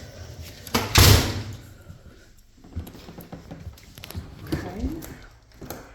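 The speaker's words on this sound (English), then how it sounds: "Get this door locked back. That door is a little difficult." A house door is pushed shut with a loud thump and then fiddled with and locked, followed by a few softer mechanical clicks and knocks, with someone speaking briefly.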